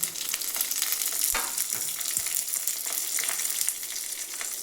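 Coconut, cumin, chili and coriander roasting in a pan, giving a steady close crackling sizzle with a few soft stirring knocks, no voices.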